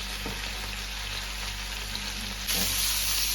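Cauliflower florets for a roast fry in a pan, a dense continuous sizzle that swells louder near the end as the pieces are stirred and tossed.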